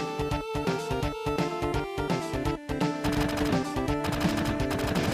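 Rapid automatic gunfire in Final Fantasy VII, dense repeated bursts of loud machine-gun shots with brief gaps, growing more continuous toward the end, no talking.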